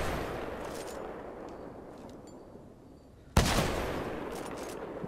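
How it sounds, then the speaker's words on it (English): Burst-fire sniper rifle in the Titanfall 2 video game: a steady hiss of game ambience, then one sudden loud crack partway through, followed by a raised, lingering wash of noise. "This is a burst fire sniper?"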